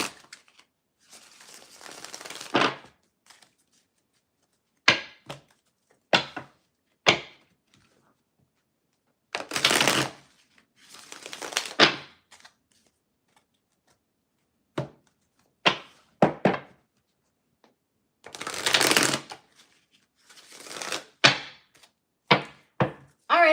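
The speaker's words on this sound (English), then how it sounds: "I'm getting ready to shuffle these cards." Tarot cards are shuffled in short, crisp bursts of riffling and tapping, separated by quiet pauses, close and fairly soft, with no voices.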